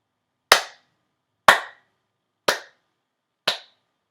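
A single person claps a rhythm in a music class, four sharp, evenly spaced claps about a second apart, loud and close, with silence between them and no talk.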